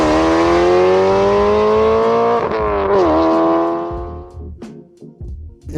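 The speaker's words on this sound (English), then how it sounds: "I think this is probably one of the loudest cars. Yeah, this is probably the loudest car on Earth." A heavily modified car with a loud aftermarket exhaust roars at high revs in a sustained, buzzy drone that wavers in pitch, then eases off into a lower rumble as it quiets.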